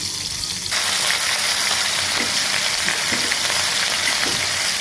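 Ginger, garlic and cumin paste fries in hot oil for a pangas fish and potato curry; a loud, crackling sizzle bursts in suddenly and then holds steady and close, with faint stirring scrapes and no talk.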